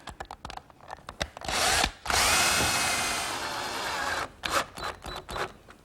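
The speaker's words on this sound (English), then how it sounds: "I'm going to put one screw right at the center of the bottom to hold it in place" A power drill drives a screw into a wooden CD storage case: several short taps and bursts, then one long sustained whir of the driver, followed by more brief clicks and bursts, close and fairly loud with no talking.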